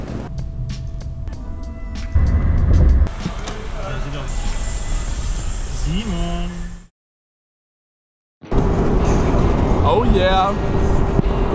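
A Ford Mustang drives along loud and windy, its engine rumble and rushing wind filling the clip while excited voices shout over it, with a brief total dropout partway through.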